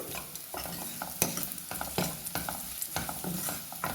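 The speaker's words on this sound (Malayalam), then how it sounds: "നമ്മുടെ ഉള്ളിയൊക്കെ ഒന്ന് മൂത്ത് വരട്ടെ" Onions sauté in a pan for a Thrissur-style lentil curry, giving a soft sizzle with irregular scraping stir strokes, close and moderately quiet, with no voices.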